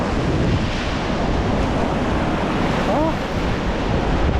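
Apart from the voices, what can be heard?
sea waves breaking on the shore at Cap d'Agde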